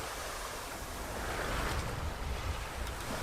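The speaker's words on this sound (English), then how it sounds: "finally some wind" Wind rushing over a sailboat under way with waves washing against the hull, a steady loud broadband roar that swells slightly midway, no voices.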